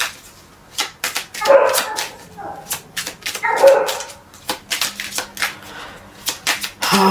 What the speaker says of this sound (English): these dogs are gonna be the death of me